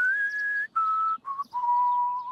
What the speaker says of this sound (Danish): Spids læberne, dyb indånding og pust.